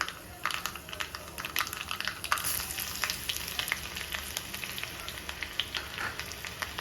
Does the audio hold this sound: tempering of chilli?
yes